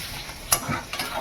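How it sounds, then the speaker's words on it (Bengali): Gime greens frying in a pan with potato and eggplant: a steady low sizzle under a few quick stirring scrapes, with one sharp clink near the middle, all close up and without talk. "তারপরে আমি গিমে শাকটা দেবো। একটু ভেজে নিই"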